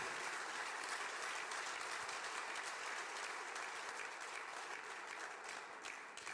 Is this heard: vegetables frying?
no